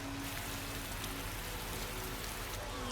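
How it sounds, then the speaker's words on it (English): Steady rain in the video game Rain Code, a dense, even hiss of falling drops continuing throughout with no talk. "It's raining. That's why it's called raincode."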